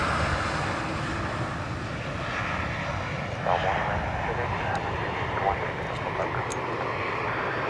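An ATR turboprop airliner at Dublin Airport roars steadily on its approach, its engine drone loud and continuous throughout, with a few faint clicks on top and no talk.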